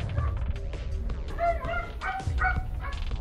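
A dog barks and yips in Borderlands: The Pre-Sequel, giving a run of short, excited calls mixed with whimpers over steady game background noise, at moderate volume with no talking.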